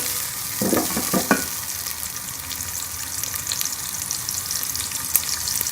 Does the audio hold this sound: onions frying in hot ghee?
yes